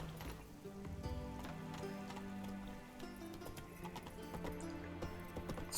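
Roach, a horse in a video game, trots with a steady clip-clop of hooves and gives a neigh partway through, heard alone at low volume.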